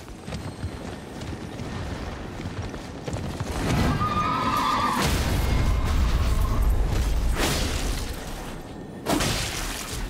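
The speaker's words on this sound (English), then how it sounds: "That was a horse, though." Amid Elden Ring game sound effects and clattering during a boss fight, a horse whinnies clearly in the middle, followed by bursts of crashing and mechanical noise.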